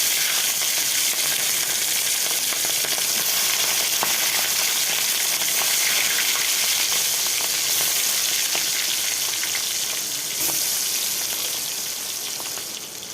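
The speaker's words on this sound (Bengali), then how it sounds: "তেলটা গরম হয়ে গেছে বন্ধুরা, আমি মাছগুলো দিয়ে দিচ্ছি।" Six pieces of fish frying in hot oil give a steady, dense sizzle throughout, loud and close, with faint crackles and pops and no talking.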